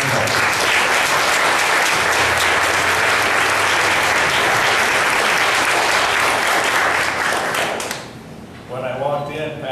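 Audience applause for someone being welcomed at a church gathering: loud, dense clapping from a large crowd that runs for about eight seconds, then cuts off and gives way to someone talking.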